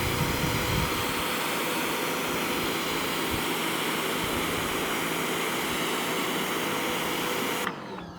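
A steady, loud hiss of a Sun Joe SPX3000 electric pressure washer spraying water runs unbroken for several seconds, then cuts off abruptly near the end.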